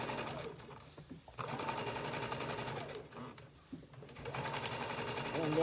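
Sewing machine stitching fabric for a sublimation craft project, a steady close whirring hum that runs almost continuously with brief slowdowns.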